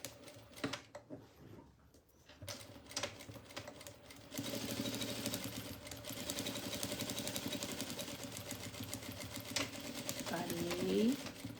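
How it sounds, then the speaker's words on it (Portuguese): A sewing machine stitches a double toiletry bag, running in a steady mechanical whir that starts after a few quiet seconds and continues close and fairly loud, with a short pause near the start. "fazendo a costura"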